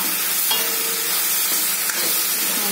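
Bitter gourd stir-fry sautéing in a pan gives a steady, loud, close sizzle of frying, with occasional faint scrapes of stirring and no talking.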